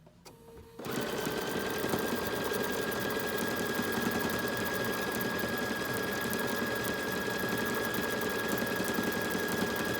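A BERNINA jumbo bobbin sewing machine starts up and stitches forward, a fast steady mechanical whir with rapid needle clatter that runs unbroken and close after a brief quiet start.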